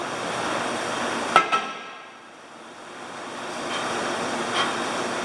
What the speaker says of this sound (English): I'm going to shock it. Just like that. A small baby hammer.